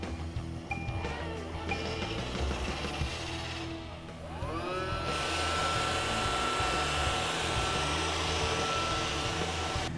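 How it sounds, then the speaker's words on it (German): A robot vacuum cleaner runs in a music rehearsal room, a loud steady motorized whir that shifts pitch midway as it starts up and then holds a constant high hum. "den Staubsaugerroboter in Gang setzen, indem ihr auf die Clean-Taste drückt"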